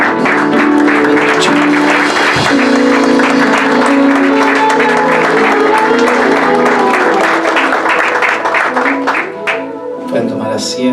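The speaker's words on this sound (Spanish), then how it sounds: "quiero que recibamos con un fuerte aplauso a Milton" A church congregation claps loudly and continuously to welcome a speaker, the dense applause filling the room before fading slightly near the end.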